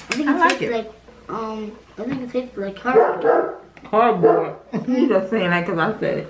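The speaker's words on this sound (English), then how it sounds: "Excuse the dog" A dog barks several times during a snack-tasting session indoors, its short yaps mixed in with and partly masked by near, continuous conversation between people.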